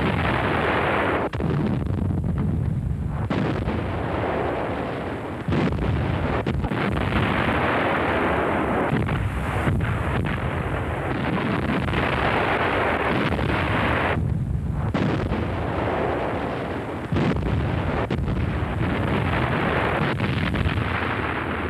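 Heavy German towed artillery fires in wartime footage from the first months of Operation Barbarossa, repeated deep booming blasts over a constant rough, windy background roar.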